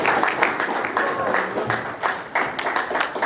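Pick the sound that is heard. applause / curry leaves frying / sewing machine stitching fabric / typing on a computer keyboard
applause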